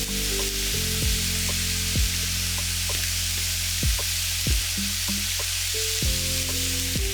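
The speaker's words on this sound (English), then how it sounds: "So we're going to brown the meat on medium heat with the onions" Beef browning with onions over medium heat for a homemade beef curry, a loud, even sizzle filling the pan, with a few faint clinks of stirring and no speech.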